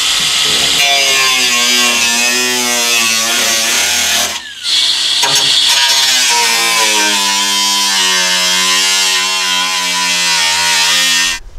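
Power tool cutting away rusty rocker panel sheet metal on a Jeep Cherokee XJ, giving a loud, continuous high whine that breaks off briefly midway and then resumes, with no speech.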